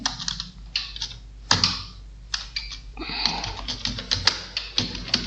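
Fast bursts of typing on a computer keyboard while entering text in MS Word, crisp and close, broken by short pauses and a few louder key hits.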